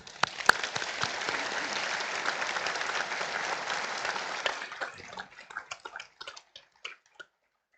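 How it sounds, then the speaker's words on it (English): Graduation ceremony audience breaks into applause, a dense sustained clapping for about five seconds that thins out into a few scattered final claps. "would ask you as graduates to give them a round of applause"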